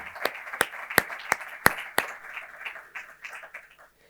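Audience clapping at a presentation about a historic church organ in Lezuza, Albacete: sharp separate claps, then a spread of lighter scattered clapping that thins and fades to quiet.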